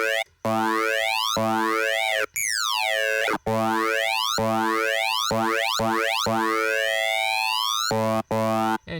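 A Spire synthesizer patch with its pitch swept by a saw-wave LFO, giving loud, bright, boing-like tones that glide repeatedly up and down in cycles, alone with no talk.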